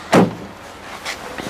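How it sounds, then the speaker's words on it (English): The door of a 1975 Camaro LT opens with a single loud close clunk, then a quieter rustle and soft click afterward. "We open up the doors."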